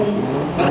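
Westfield sports car accelerating hard during an autotest, a steady loud engine roar close by with a slight rise in pitch toward the end.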